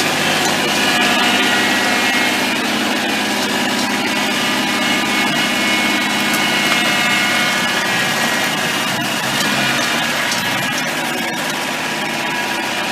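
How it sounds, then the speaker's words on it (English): Tractor engine running steadily and loud throughout, a dense continuous mechanical drone with broadband clatter as it arrives to pull out a stuck car. "Here comes the tractor to the rescue."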